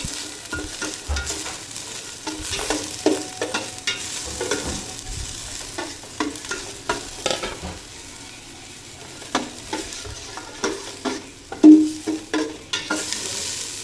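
Garlic, ginger and onion sauté in a thin, smoky pot for pork nilaga, with a low frying crackle broken by frequent scraping and stirring clatter, close and without talk.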